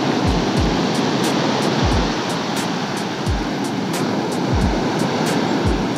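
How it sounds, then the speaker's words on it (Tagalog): Loud, continuous rush of sea waves breaking on Dinahican Beach, Infanta, Quezon, with steady wind noise and a few low thumps from handling. "Ang ganda ng dagat."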